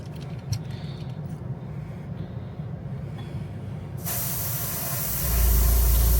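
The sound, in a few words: spraying candy paint straight out of the bottle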